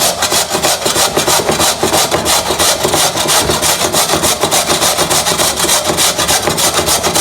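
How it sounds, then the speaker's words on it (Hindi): Potatoes are rubbed hard against the coarse side of a box grater in a fast, steady back-and-forth rhythm of loud, close rasping strokes that go on without a break. "हम आलू को कद्दूकस कर लेंगे"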